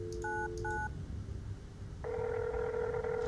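A payphone in the video game Fear The Spotlight: a few quick keypad dialing tones, a short pause, then a steady ringback tone purring on the line.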